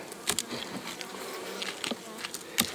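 Honey bees at an apiary in late August buzz and hum in a busy, steady drone, with individual insects zipping past close up now and then. No one speaks.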